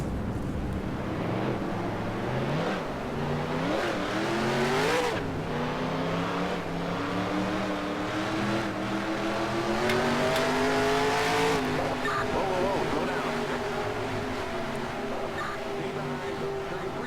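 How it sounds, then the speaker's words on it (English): Race car engines in NASCAR Racing 2003, Daytona setting, rising and falling in layered revving whines as the field fires up and accelerates, loud and continuous with sweeping pitch climbs over about seventeen seconds. "Drivers, start your engine."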